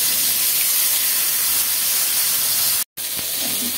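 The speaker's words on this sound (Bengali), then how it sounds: "হলুদ লবণ মরিচ মেখে নিয়েছি মাছগুলো ভেজে নিচ্ছি" Fish coated in turmeric, salt and chili frying in hot oil, a loud, dense, continuous hiss that cuts out briefly before resuming.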